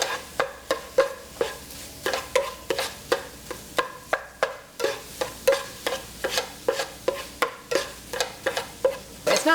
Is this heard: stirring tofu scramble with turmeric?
yes